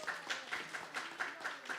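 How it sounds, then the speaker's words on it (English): Audience at a Vraj Darshan seminar gives a round of applause, heard as quiet, evenly spaced rhythmic claps about four per second. "please give a big round of applause."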